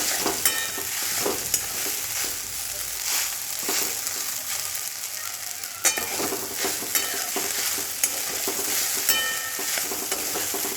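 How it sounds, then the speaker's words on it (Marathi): Sabudana (tapioca pearls) sizzling in hot oil in a kadai as it is stirred and roasted on full flame, a steady close crackle with repeated scraping strokes throughout, no voices. "तेल छानपैकी गरम झालेलं आहे त्यामध्ये टाकून घेऊया आता आणि हे मिक्स करून घ्यायचं आहे"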